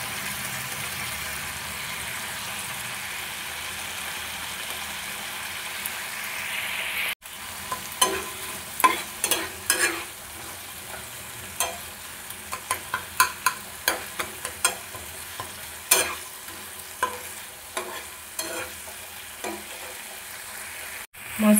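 Spice masala with Kashmiri chili powder and a little water frying and being stirred in a pan for a Bengali raw-banana kofta curry, a steady close sizzle broken by repeated sharp scrapes and knocks of the spoon.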